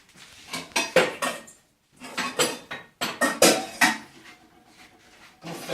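A saucepan being handled for boiling potatoes gives repeated metallic clanks and clatters of pot and utensils in quick clusters, close and fairly loud, with brief pauses between.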